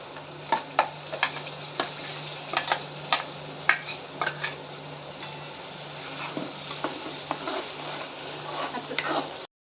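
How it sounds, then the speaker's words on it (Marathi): A spice mixture fries in a pan for matar paneer gravy with a steady crackling sizzle, broken by repeated sharp taps and scrapes of a spoon stirring against the pan, close and fairly loud. "याच्यामध्ये आपण तयार केलेले मिश्रण टाकणार आहोत"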